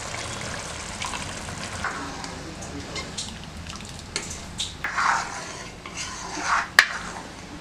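Strained tamarind extract poured into a simmering pot of thuthuvalai puli kulambu, a steady close splashing, bubbling wash broken by a few soft clinks and a sharper knock near the end.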